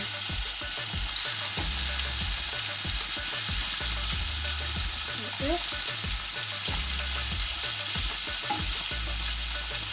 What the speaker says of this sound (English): Flip over the salmon